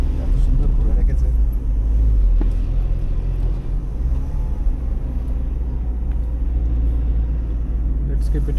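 A Tata Tiago NRG holds second gear on a winding ghat road, its engine giving a steady, loud low rumble with road noise throughout, while people talk over it.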